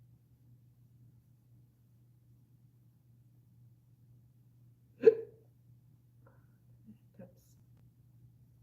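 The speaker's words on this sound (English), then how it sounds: "Hiccups." A person hiccups while painting a garden barn board. One sharp, close hiccup stands out in an otherwise quiet room with a low hum, followed by two fainter, smaller catches of breath.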